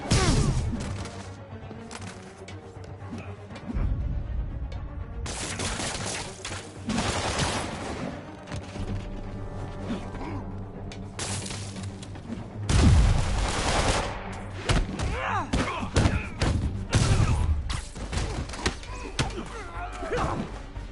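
Enemy gunfire in a Spider-Man video game: rapid volleys of loud shots and heavy thuds come in clustered bursts, with short lulls between them and speech in the mix.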